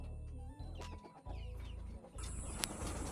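Bangkok breed breeding hens clucking close by, a run of short repeated clucks with bursts of louder cackling, busy and continuous.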